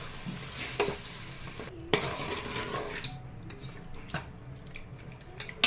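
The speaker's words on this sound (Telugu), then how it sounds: "మసాలాలు ఫ్రై అయ్యాక ఇందులో మ్యారినేట్ చేసుకున్న చికెన్ వేస్తున్నాను" Marinated chicken goes into a pot of fried whole spices for chicken pulao, producing a steady sizzle and fry with scattered sharp clinks of a spoon stirring against the pot.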